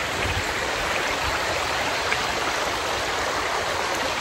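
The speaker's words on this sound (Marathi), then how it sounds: "हा जो आवाज आहे ना छानशी छोटीशी नदी मस्त समोरून आली आहे वाहते" A small river near Mumbai flows past close by, a steady, full rushing of water that holds an even loudness throughout with no voices.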